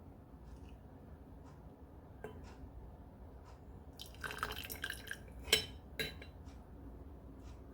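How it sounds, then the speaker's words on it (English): Sea moss gel made with lime is ladled into a container with soft wet drips and a few glassy clinks, faint and close in a quiet room. "Take some, scoop it like that, and place it in my container."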